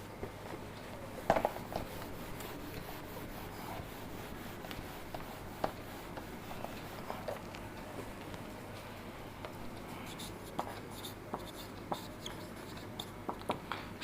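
A pen writes out a trigonometry math solution on paper with faint, steady scratching and occasional soft ticks, quiet and close, with no talk.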